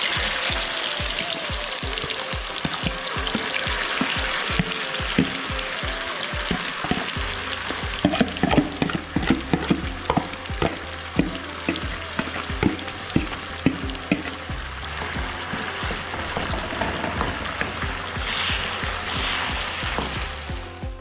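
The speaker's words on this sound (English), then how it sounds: "अब हम ये मिक्सर तेल में डालने वाला है" A Schezwan sauce mixture heavy with chilies hits hot oil and fries with a loud, steady sizzle, while a spoon scrapes and knocks through it in repeated strokes; the frying swells fuller after a few seconds and carries on with no talking.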